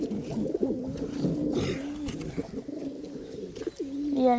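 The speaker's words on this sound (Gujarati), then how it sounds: "કબૂતરા છે મિત્રો" A pigeon coos nearby in low, rolling, continuous notes, with faint rustling in the background and no talking.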